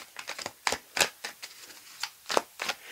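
Tarot cards being cut and shuffled in a deck, giving a quick series of crisp, papery riffling snaps and flicks close by, with no voices.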